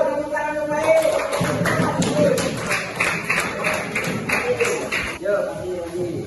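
A class of fifth-grade primary school students clapping together during a lesson, brisk overlapping claps heard beneath a teacher's voice talking over the top.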